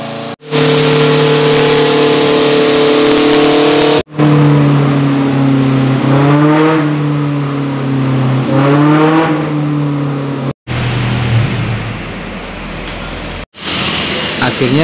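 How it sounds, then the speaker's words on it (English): A tuned Daihatsu Hijet injection engine, prepared for slalom racing, revving hard on a dyno. The loud, close, sustained revs rise and fall across several runs, separated by brief abrupt cuts. "Setelah beberapa kali melakukan run di atas mesin dyno"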